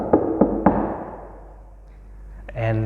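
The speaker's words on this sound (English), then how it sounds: "they knocked at the door." Three sharp knocks on a cottage door in quick succession, close and distinct, followed by a pause and then a voice starting to speak.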